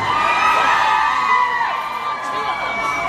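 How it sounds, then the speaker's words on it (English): Female fans in a concert audience at a rock show at the Brixton scream and cheer loudly together, a dense, sustained wall of high-pitched crowd shrieks. "come on, girls, let me hear you scream, come on!"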